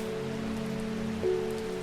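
Rain falling in the video game Strange Horticulture, a soft, even patter on surfaces that holds steady throughout with no voices.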